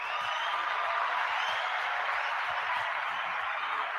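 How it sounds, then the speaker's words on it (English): Recorded crowd applause played back from a sound pad, a steady dense wash of clapping at low level with no separate claps standing out and no voices. "have everyone clap for me"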